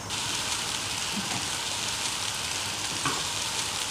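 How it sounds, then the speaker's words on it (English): Sliced onion sizzling in sesame oil in a pan for a vegetable stir-fry, a steady close hiss and crackle with no talk. "Now I'm adding some sliced onion."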